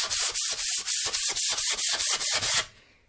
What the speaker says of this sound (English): We're going to sand the entire face along the grain.